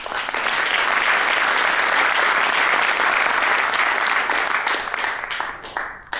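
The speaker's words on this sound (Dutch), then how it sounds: "Mag ik een applaus voor Martin Leenders." A debate audience applauds steadily for several seconds, a dense, loud wash of clapping that fades slightly at the end.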